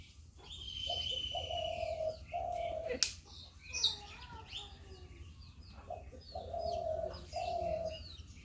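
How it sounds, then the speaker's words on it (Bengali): Repeated dove coos from a nearby ghughu bird ring out in several spaced phrases, clear over low kitchen background noise while rice is cooked in a Bangladeshi home. "কত সুন্দর ঘুঘু পাখি ডাকে শুনেন।"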